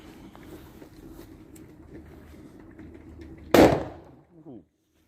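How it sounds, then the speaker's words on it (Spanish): A sharp, loud burst from built-up hydrogen gas igniting in a homemade hydrogen engine setup, one sudden bang after steady background noise, trailing off quickly. "Y se pega una explosión bárbara"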